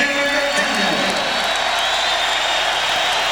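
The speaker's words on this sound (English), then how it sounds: "McDaniel does get the ovation that Riley had hoped he would and knew he would." Crowd applause and ovation for Xavier McDaniel at a 1991 Celtics at Knicks basketball game in New York, a steady broad wash of clapping and cheering held at even loudness throughout.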